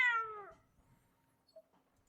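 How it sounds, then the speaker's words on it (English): A cat gives a single clear, close meow that falls in pitch and fades within half a second, followed by near silence with a faint small sound. "Sorry, that was my cat."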